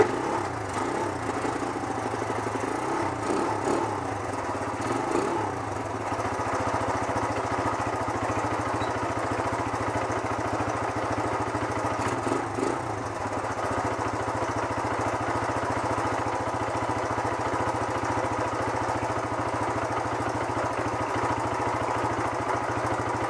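A 1973 Honda CL100 motorcycle's small single-cylinder engine runs close by with choke on, a steady mid-pitched putter and idle that wavers slightly early on, then holds an even rhythm throughout.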